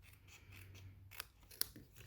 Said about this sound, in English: I usually just cut these kind of cuts with scissors